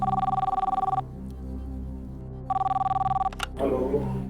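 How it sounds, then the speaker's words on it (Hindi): A telephone rings in two electronic bursts separated by a short pause, close and clear, followed by a brief rustle and a voice. "किशोर तिवारी जी को विदर्भ में फोन लगाया जाए।"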